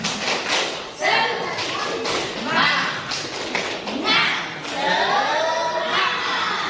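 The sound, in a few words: group doing a rhythmic spirit clap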